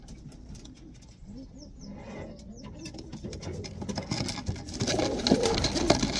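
Racing pigeon breeders in a loft, with soft cooing calls and scattered rustling near the mic, growing busier and louder toward the end.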